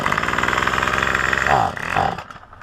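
A Craftsman string trimmer engine runs with a rough, buzzing note after a carburetor screw adjustment, then sags and cuts out near the end, leaving near-silence.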